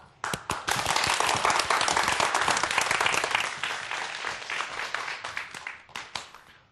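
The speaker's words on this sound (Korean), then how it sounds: "오늘의 강연자를 박수로 모셔볼게요" Audience applause in a Korean science lecture hall, welcoming a speaker to the stage: dense, loud clapping from a crowd that swells quickly, holds steady, then gradually thins out.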